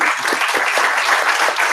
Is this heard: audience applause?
yes